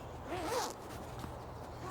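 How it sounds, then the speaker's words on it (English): A zipper runs along the central zip of a British Army stretcher hammock sleeping bag, one short quiet pull heard close up, followed by faint rustling of fabric. "And using the central zip"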